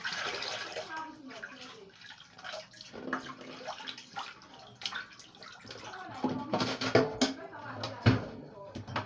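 Water is scooped and poured slowly to separate it from settled sand and stones, producing gentle, intermittent sloshing and trickling that grows louder toward the end.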